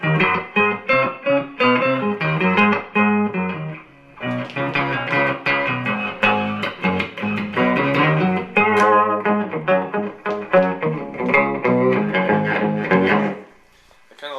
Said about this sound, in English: this again is the octave pedal with it down to 1 octave